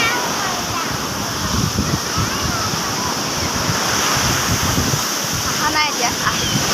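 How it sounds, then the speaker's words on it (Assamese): Sea waves break on the shore at a beach in Chennai, a continuous loud roar of surf with wind buffeting the microphone and faint voices in the background. "সাগৰ ঢৌবোৰ"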